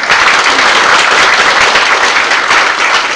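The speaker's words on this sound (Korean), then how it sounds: "여러분 큰 박수 부탁드리겠습니다." Loud, dense audience applause at a book launch event in a hall, steady unbroken clapping from a large crowd filling the whole few seconds.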